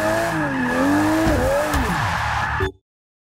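Dodge Viper GTS engine in the Forza 6 racing game, a loud continuous engine note rising and falling with revs, tire squeal mixed in, cutting off abruptly near the end.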